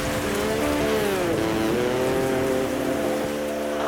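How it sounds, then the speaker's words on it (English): Heavy rain pours down, a loud, steady wash of hiss with a tonal whine sweeping through the middle, continuous and close. "2 inches of rain in about half an hour"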